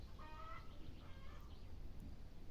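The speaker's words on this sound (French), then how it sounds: "Ils font du bruit, les poules." Hens clucking in a garden setting, several short harmonic calls at moderate distance in the first second and a half over a steady low background rumble, with no talk.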